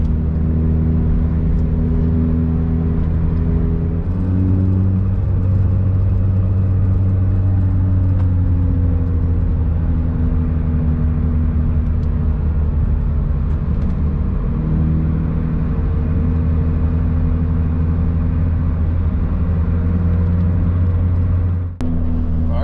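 A McLaren Senna supercar drives by on a public road, a steady loud engine drone with a gear change partway through, holding near and constant throughout with no talking.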